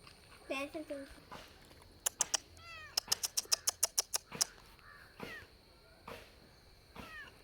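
A cat meows a few times close by, mixed with a rapid series of sharp caws from a crow and brief human voices.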